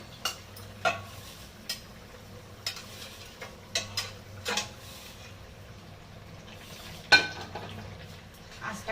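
Pabda fish slipped into a simmering Bengali curry in a home kitchen, giving soft splashes and sizzling bubbling punctuated by repeated clinks and scrapes of a spatula against the pan.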